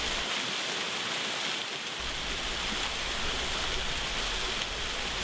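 A clear mountain stream on Mudeungsan rushes in a continuous bright, splashing wash, steady and close with no voices.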